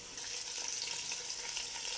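Spices for bhuna khichuri frying in a pan, a steady bright sizzle with crackling oil that continues evenly and close throughout, with no voices.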